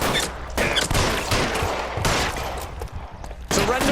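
Repeated bursts of gunfire in the video game L.A. Noire, dense rapid shots in several loud waves with brief lulls between them, filling the whole stretch.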